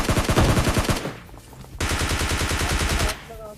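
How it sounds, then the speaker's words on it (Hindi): Bursts of automatic gunfire in the PUBG Lite battle royale game, two long rapid-fire volleys separated by a short pause, loud and close. "मेरे टीममेट को अब कवर फायर की जरूरत है, जो कि मैं अब देता हूं।"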